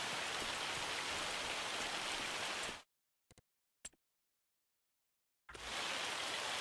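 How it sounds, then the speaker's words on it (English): Hail pours down in the Farming Simulator 25 video game as a loud, dense, steady hiss. It cuts out into silence with a couple of brief ticks, then the hail roars back at full strength. "Let's fast forward past this hail so we don't have to listen to it anymore."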